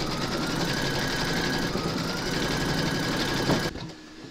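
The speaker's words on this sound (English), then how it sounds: "Load a black thread into your machine for the black of the eyes, and then you're going to stitch round number eight" An embroidery machine stitching black thread for a scarecrow's eyes in an in-the-hoop appliqué, a rapid, even mechanical chatter running close and steady before cutting off abruptly near the end.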